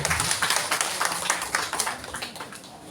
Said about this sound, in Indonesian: tepuk tangan kangge ibu-ibu kaya